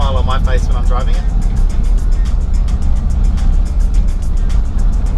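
A Lotus Esprit Turbo SE driving on the road, a steady loud engine and road roar filling the whole clip, with a brief voice over the start.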